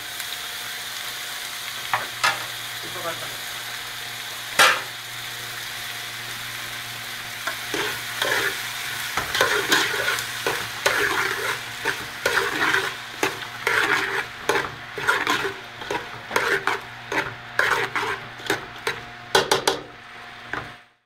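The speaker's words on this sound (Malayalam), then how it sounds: "ഇവയെല്ലാം നന്നായി ഇളക്കുക." Camel meat frying with onion and potato in a pan, stirred steadily with a utensil: a continuous sizzle under repeated scraping and clinking strokes that grow busier and more rhythmic partway through, close and fairly loud, no talking.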